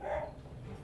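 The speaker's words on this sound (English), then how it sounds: "And there goes my dog, going nuts." A dog in Monster Hunter World barks wildly, a single faint, brief yelp-like bark over low background ambience.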